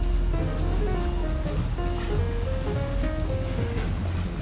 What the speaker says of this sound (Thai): คลื่นลมกลางทะเลครับนี